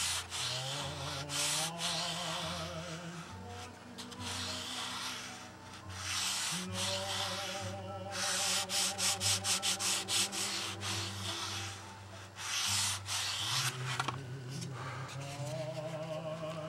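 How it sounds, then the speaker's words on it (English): Hand sanding of a small wooden cockpit part for a Windy U Master 828 model plane: continuous rubbing strokes of sandpaper on wood, close and fairly quiet, with tonal music running underneath. "it's easier for me to work off the end of the sandpaper here"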